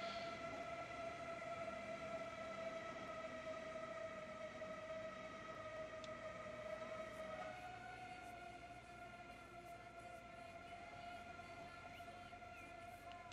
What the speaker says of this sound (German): Schön, wie er in den Bahnhof einfährt.